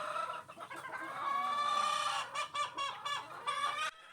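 A gamecock in a pen gives loud, close, agitated clucks and drawn-out harsh calls, several bursts in a row over a few seconds.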